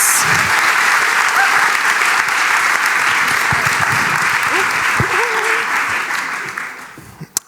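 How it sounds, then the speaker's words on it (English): Loud, dense applause from an event audience greeting three speakers, steady for several seconds before tapering off, with a few faint voices and bits of movement under it. "Round of applause, please, for our three speakers."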